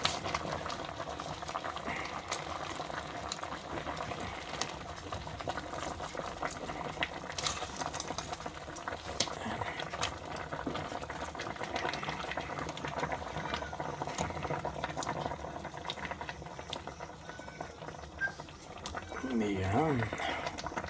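Sinigang miso broth with lapu-lapu fish bubbles in a covered pot, a steady close rolling boil that continues without a break, with a short clink near the end.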